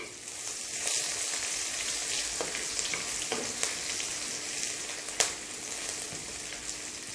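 Finely chopped garlic and ginger frying in a pan for a Assamese mati dal khaar, a steady close sizzle with a few faint stirring knocks, no voices.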